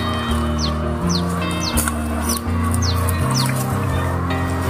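Chickens at a coop beside a cassava field cluck and call steadily at close range, with a bird's repeated short chirps cutting through above the flock.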